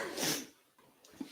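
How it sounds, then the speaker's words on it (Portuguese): A single sharp, close sneeze from an adult, bursting out and then fading into quiet breathing. "vontade de espirrar."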